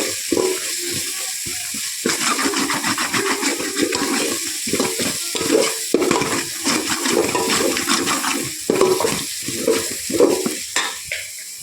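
Biryani masala sautéed in oil for chicken biryani, with sizzling broken by repeated stirring and scraping strokes in irregular bursts. Brief near-silent gaps fall between some strokes. Close and fairly loud, with no talking.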